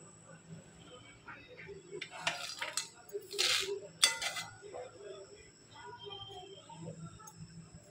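Roasted, cooled peanuts rattle and clink as they are poured into a storage container in a home kitchen, in scattered bursts with a couple of louder pours and occasional soft talk.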